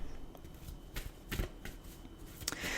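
Tarot cards are shuffled close up, a quick run of crisp riffling flutters and soft slaps repeating in bursts, with no talking.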